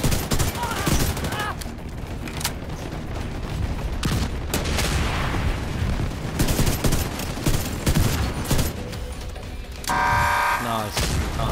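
Dense video-game battle audio with rapid bursts of gunfire and heavy mortar and artillery booms, loud and continuous, with voices talking over the shooting throughout.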